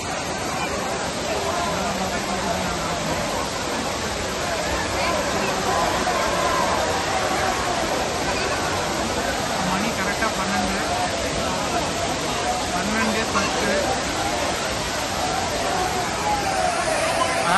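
Steady roar of Kutralam's Five Falls in Tamil Nadu pouring down, with a loud crowd of bathers murmuring and shouting underneath throughout.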